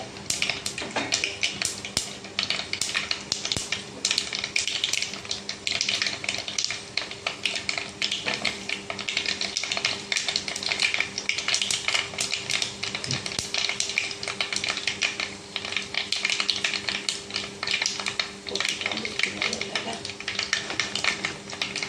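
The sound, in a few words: mustard seeds popping in hot coconut oil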